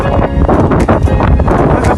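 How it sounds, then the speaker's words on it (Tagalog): Strong wind buffets the microphone near Bangilby Bridge while riding a bike outdoors, a loud continuous rumbling roar that swells and gusts throughout. "Kay hangin kayo."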